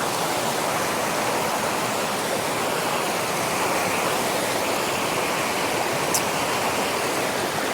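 A fast-flowing mountain stream on a hiking scramble route rushes in a dense, constant roar, close and loud throughout with no talk.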